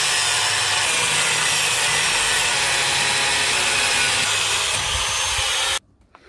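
A bolt being cut during a rear strut relocation near a car's chassis rail gives a loud, continuous harsh grinding hiss that runs steadily, then stops abruptly.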